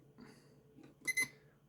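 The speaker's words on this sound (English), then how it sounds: "There's the timer." A kitchen timer going off during model decal soaking, two quick high electronic beeps in a row, faint and close in an otherwise quiet room.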